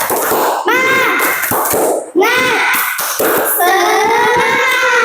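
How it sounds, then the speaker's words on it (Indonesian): Schoolchildren in a classroom chant a rhythmic clap-along cheer together, their loud sing-song voices punctuated by sharp, synchronized hand claps in a fast pattern. "mari kita lakukan tepuk semangat"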